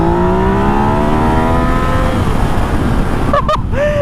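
A 2019 Yamaha XSR900 motorcycle accelerates hard with traction control off, its engine note climbing through rising harmonics before quick gear shifts cut in, loud and close.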